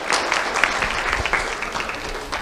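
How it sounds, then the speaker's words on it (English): An audience at a community awards ceremony applauding a young honoree, a dense, steady patter of many hands clapping at moderate distance that holds evenly throughout. "Let's have a round of applause for Kenzie Pastor."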